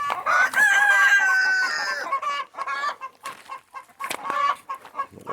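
Hens cluck beside a backyard chicken coop while a rooster crows one long, drawn-out call at the start, followed by scattered clucks and squawks close by in an otherwise quiet outdoor setting.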